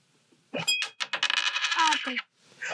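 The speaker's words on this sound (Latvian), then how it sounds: "kā es varu noņemt nost kartonu, tā, lai monētiņa iekrīt iekšā glāzē" A coin drops into a drinking glass as a cardboard card is pulled out from under it, ringing and rattling brightly for over a second before a second brief jingle.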